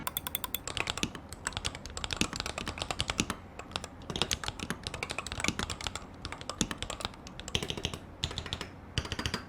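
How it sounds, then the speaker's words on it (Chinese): Rapid typing on a Flydigi FS68 magnetic-switch keyboard, a rhythmic patter of light, close keystrokes in steady bursts with brief pauses, no voices. "我们就先来听听打字音吧"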